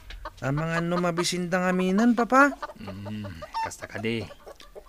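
Chickens at a coop cluck and squawk loudly and close by in a run of harsh, stacked calls, interleaved with a person speaking.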